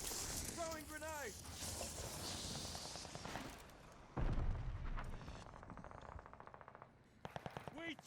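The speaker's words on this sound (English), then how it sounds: "Throwing grenade." Grenade blast in the shooter Call of Duty Vanguard, one heavy boom about four seconds in, amid rattling gunfire and battle noise, with people talking over it.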